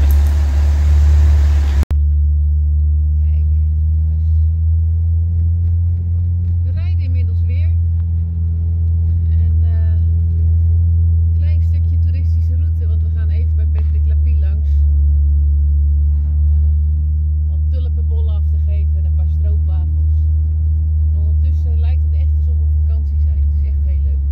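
Inside a classic rally car on the Dakar Classic 2023 stage from Marseille toward the Netherlands, the freshly repaired engine drones smoothly and steadily while people talk over the constant low cabin rumble.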